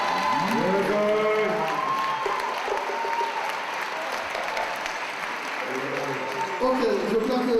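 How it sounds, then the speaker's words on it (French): Audience applause fills a UNESCO Goodwill Ambassador nomination ceremony, sustained and dense throughout, with a crowd murmur and voices over the clapping. "Applaudissez s'il vous plaît."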